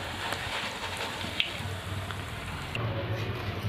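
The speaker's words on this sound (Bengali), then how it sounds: "এইভাবে চিপসটা একটু সময় নিয়ে ভাজবেন আর এইভাবে একটু একটু করে নেড়ে দিবেন" Slices of raw green banana sizzle steadily in hot oil, a dense continuous crackle with a few louder pops, close and even throughout, no voices.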